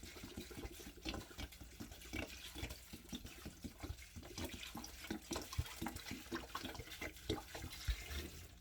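Purified water poured from a gallon bottle into a pot for boiling elderberries: a steady, gurgling stream with bubbling glugs, close but fairly soft, continuing without pause.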